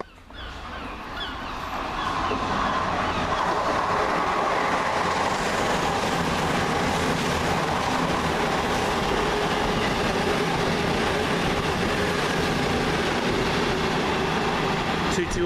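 Passenger train 1S51 from Plymouth to Edinburgh Waverley passes at Teignmouth, a loud sustained rumble and roar that swells within the first two seconds and holds steady throughout, with a horn-like tone mixed in.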